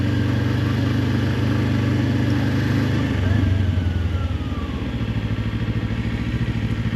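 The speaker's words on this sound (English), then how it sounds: "I'm going to feed the clutch out, touch a throttle," A motorcycle idling then pulling away from a stop as the clutch is fed out, its close, steady engine note lifting briefly before settling into a lower, pulsing run with no speech.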